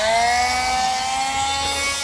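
A hand saw cutting through a plastic rear tweeter part for a Mk4 Golf, a dense continuous rasping with a faint steady whine, close and loud.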